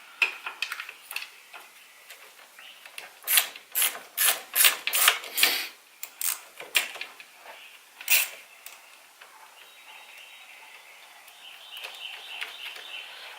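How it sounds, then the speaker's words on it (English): A wrench loosens and removes the battery terminal on a 2010 Ford Ranger XLT, producing a close run of sharp ratcheting clicks and metallic rubs with pauses between them, then quieter handling noise. "let's go ahead and just remove the battery terminal completely"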